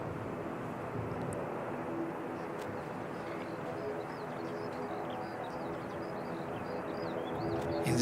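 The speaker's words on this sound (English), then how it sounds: "sounds like we've got an ATR coming out" ATR turboprop airliner taking off at Christchurch Airport in strong gusty winds, a steady distant propeller drone and rumble, moderately loud, swelling slightly at the end.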